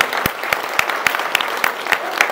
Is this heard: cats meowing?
no